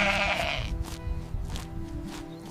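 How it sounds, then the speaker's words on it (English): A sheep bleats loudly and close for a couple of seconds, a wavering nasal call with no voices around it. "Sheep! Sheep!"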